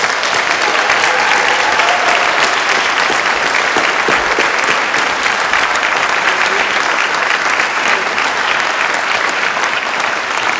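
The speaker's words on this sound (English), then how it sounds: "please join me in showing some appreciation with one big round of applause" An audience at a Poverty Truth Commission celebration event in a community centre gives its commissioners a big round of applause: dense, steady clapping that stays loud and unbroken throughout.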